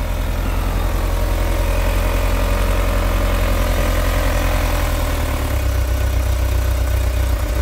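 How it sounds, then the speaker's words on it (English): A 1984 Volkswagen Westfalia's engine idles shortly after a cold start, a loud, close, steady rhythmic chugging with a deep low rumble that shifts slightly near the end. "So I've just started the engine, and it's cold."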